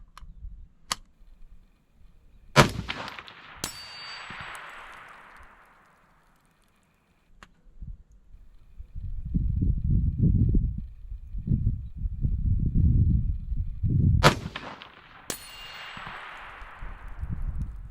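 Two rifle shots crack out at a steel target, each followed by a long ringing decay, with a pause and low rumbling handling noise between them.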